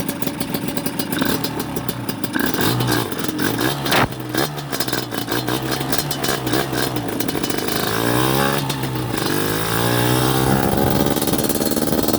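Off-road dirt bike engine revving hard and loud close by, pitch climbing and dropping as it shifts up through the gears, with no speech.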